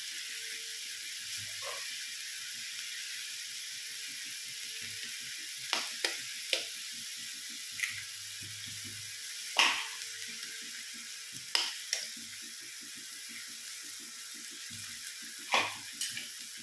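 Drumstick and egg thoran frying in a pan, a steady quiet sizzle broken by sharp intermittent scrapes and taps of a spoon stirring, heard close with no talk.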